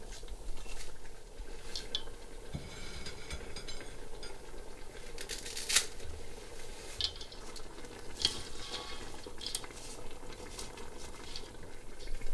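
A pot of Persian noodle soup broth made with four beans and reshte noodles bubbles and simmers steadily, a soft continuous gurgle with occasional sharper pops and clinks from stirring, heard close with no talking.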